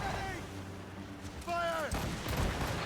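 Ship cannons boom in a heavy volley during a naval battle in Assassin's Creed Rogue, the blasts rolling out after shouted orders to fire, with voices calling out over the gunfire.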